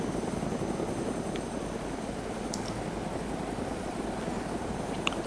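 A helicopter in the video game DayZ drones steadily as a dense, loud, continuous rotor and engine wash, with no talking over it.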